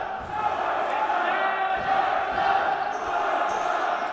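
Crowd and bench noise at a European Box Lacrosse Championship game between Germany and the Czech Republic, a steady roar of voices that swells slightly, with a commentator speaking over it.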